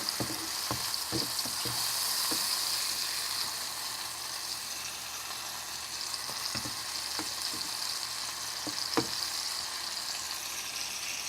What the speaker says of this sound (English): the turkey, it don't take that long to cook. And I keep my stove up nice and hot.